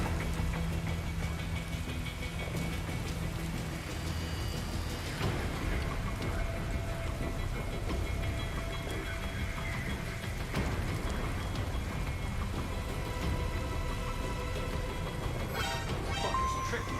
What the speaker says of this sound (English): Is the rain really that bad for me?